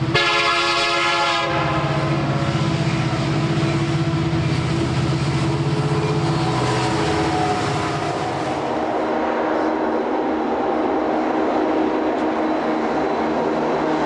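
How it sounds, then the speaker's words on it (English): A train horn blasts loudly for a couple of seconds while a freight train rumbles past on a prairie main line, its rolling noise continuing steadily after the horn fades. "hosting an endless parade of unit coal and grain trains"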